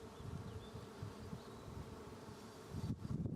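Honey bees buzz around a beehive in an outdoor beeyard, a steady close swarm hum that swells louder near the end.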